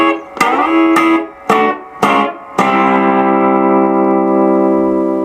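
Line 6 Variax 300 modeling guitar set to a Gretsch 6120 bridge pickup, several bright picked chords with twangy attack, then a final chord left ringing and sustaining with a touch of echo, alone and close.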